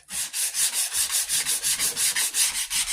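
Sandpaper rubbed by hand with the grain of a wooden Hawken rifle stock, a steady run of rapid rasping strokes, near and evenly paced, with no voices.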